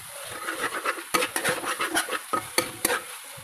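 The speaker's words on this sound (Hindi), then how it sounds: "सारे मसाले को 2 से 3 मिनट तक हम मीडियम फ्लेम पे पका लेंगे" Spice masala stirred in a pan over a medium flame, with repeated scraping and stirring strokes, light sizzling, and a few sharp clinks of the spoon against the pan, close by and without talking.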